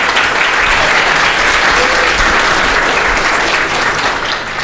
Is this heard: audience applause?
yes